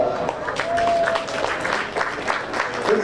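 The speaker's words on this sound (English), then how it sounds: "Let's give these boys Edwards a big round of applause." Scattered applause from a small audience at a county fair swine show, dense clapping running steadily through the moment with a faint voice briefly audible over it.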